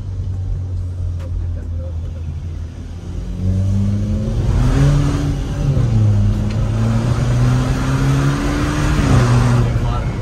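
A Stage 4 VW Polo GTI revs at part throttle, its engine note rising and falling in close, sustained sweeps with small exhaust crackles.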